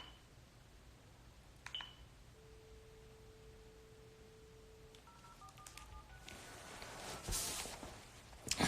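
A phone dials a call: a few short clicks, a steady held tone for a couple of seconds, then a quick run of stepped keypad beeps and connection tones, close and clear against a quiet background.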